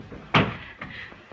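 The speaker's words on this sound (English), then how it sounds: "I could have sworn I heard that door close." A door closes with one sharp, close slam, followed by fainter knocks, in a 1933 black-and-white Laurel and Hardy film; no one speaks.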